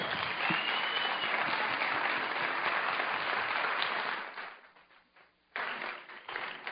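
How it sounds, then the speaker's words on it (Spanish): Audience applause at a talk on Nutrilite supplements, a loud dense round of clapping that carries for about four seconds, fades out, then briefly picks up again near the end. "Sí, se merece el aplauso."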